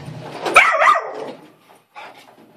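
A puppy barks at a vacuum cleaner: a burst of several sharp, close barks and yips, then a brief pause and one more shorter bark.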